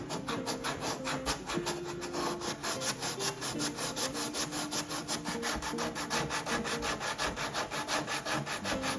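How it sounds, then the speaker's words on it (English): Steady back-and-forth rasping of sandpaper rubbed by hand over wood, close and continuous, with an even scratching rhythm throughout. "So we just sand that around that like that."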